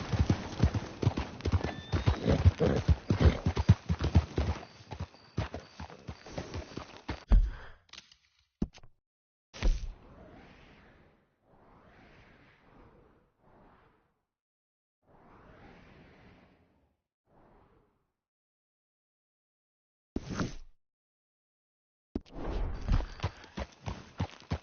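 Hooves gallop quickly and loudly in Red Dead Redemption 2. The hoofbeats cut out into quiet breathy sounds, then return in short bursts near the end.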